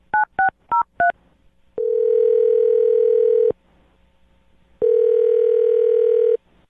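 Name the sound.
telephone dial tone while dialing a phone number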